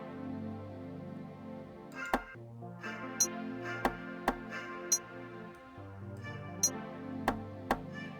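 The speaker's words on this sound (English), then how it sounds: "Then we added this rim shot right here." A rim shot sample in a hip-hop beat cracks through a looping melodic bed. About eight crisp, dry clicks fall at irregular intervals, following where a snare or clap would sit.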